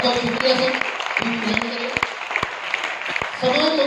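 Loud, sustained clapping from a seminar audience fills the room, broad and dense throughout, with a few sharper individual claps standing out and a voice speaking over it at moments.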